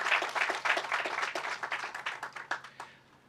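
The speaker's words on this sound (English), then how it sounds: "Please give them a round of applause" An audience applauds at a groundbreaking ceremony, a fairly quiet burst of many hands clapping together that thins into a few scattered claps and fades out by the end.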